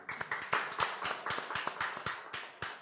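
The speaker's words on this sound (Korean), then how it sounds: "박수 한번 쳐줬어요." A church congregation at a Korean Sunday worship service claps in a steady rhythm, with sharp, evenly spaced claps filling the whole stretch at a moderate distance.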